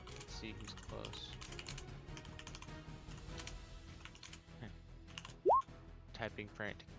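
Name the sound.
frantic typing on computer keyboard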